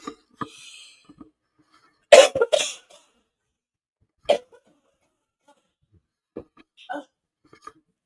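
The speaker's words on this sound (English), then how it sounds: "This cough has been trying to take me out" A person with allergies coughs several times in harsh, scattered bursts, with a couple of louder hacking coughs separated by quiet pauses.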